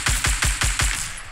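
Rapid gunfire in the Fortnite battle royale game, five sharp punchy shots in a quick even rhythm, loud and close, with a short tail of ringing afterward.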